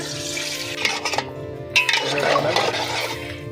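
Water poured into a pan of cooking chicken kasha, a close splashing, bubbling pour that swells after a brief clatter, with faint voices underneath.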